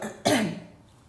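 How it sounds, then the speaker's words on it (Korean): A teacher with a cold gives one sharp, close cough followed by a short throat-clearing rasp, heard alone with no talking. "선생님 지금 감기에 걸려가지고 영상 찍는데 중간중간 기침을 하고 있어요"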